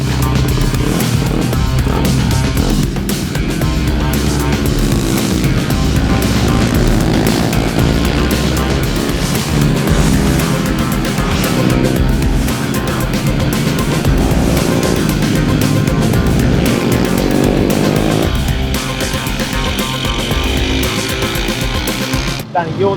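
Mini bikes racing on a track in a British endurance race, a continuous buzzing engine whine rising and falling as small motorcycles pass, loud and close throughout, with a voice talking over it.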